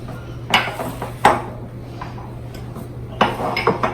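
A utensil clanks and scrapes against a bowl while sugar is stirred into thick black bean brownie batter, with a few sharp knocks spaced over a quiet, steady background hum.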